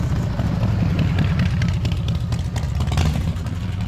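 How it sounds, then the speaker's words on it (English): A motorcycle goes by on a street near a walker at sunrise, its engine a moderately loud, rough drone with some clattering that stays fairly steady through the moment. "A motorcycle."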